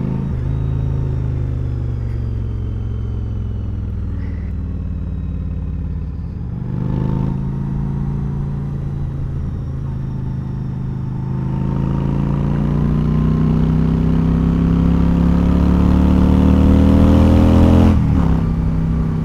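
A Yamaha V-Star XVS1100 motorcycle with a loud exhaust rides along, its deep, steady rumble rising as it accelerates. The engine is heard close and alone throughout.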